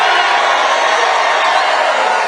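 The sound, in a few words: rally crowd cheering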